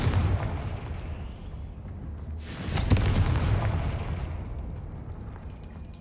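A Confringo blasting-spell explosion in a video game goes off as one sharp, loud burst and then rumbles on in a low, sustained roar over a dense ambient game soundscape.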